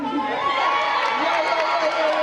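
A carnival crowd cheers and shouts steadily and loudly, a dense wash of many voices with no pause throughout.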